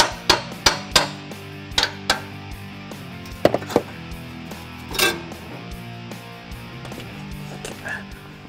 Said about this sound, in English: Now we'll tap the flanges to separate.